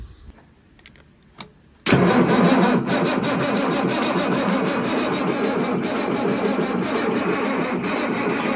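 A diesel engine on heavy equipment bought at auction cranks briefly, then catches and fires up, settling into a loud, steady, rough idle that runs on without pause and with no talking over it.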